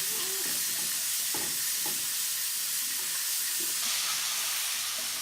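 Fish and vegetables frying over high heat with oregano, salt, oyster sauce and lemon juice, a loud steady sizzle close by with light stirring scrapes.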